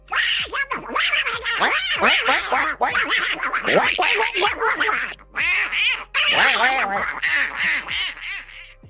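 A duck quack soundbite plays during a live cricket watch-along, with repeated loud nasal quacks in quick bursts throughout, heard over people talking.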